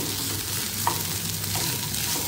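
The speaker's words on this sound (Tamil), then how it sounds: "இதை நான் கொஞ்சம் நேரம் நெய்யில் வதக்கிக்கலாம்" Washed flattened rice (poha) fries in ghee in a pan, a steady close sizzle and crackle that runs continuously with faint stirring scrapes and no voices.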